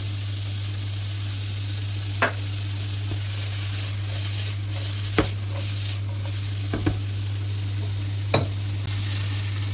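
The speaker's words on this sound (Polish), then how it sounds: "I cebulę muszę zeszlić tak na złocisty kolor" Onion seasoned with a pinch of salt and pepper fries in oil in a pan until golden, giving a steady close sizzle over a low hum, with a few sharp stirring clicks scattered through.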